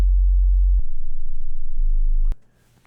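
A low, steady pure sine wave tone from an audio plugin that shifts pitch slightly twice, ending with a click and then near silence.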